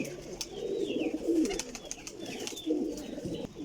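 Pigeons coo in a loft of prized teddy-breed racing birds, soft repeated throaty calls overlapping at close range, with a few brief chirps mixed in and no talking.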